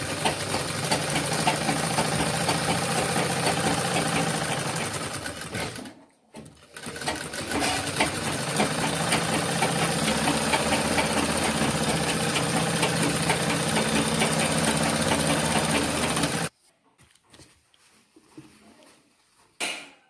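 A sewing machine stitches a medical apron toward the neckline in a steady, close mechanical whir that pauses briefly, runs again for about ten seconds, then stops and leaves faint handling noise.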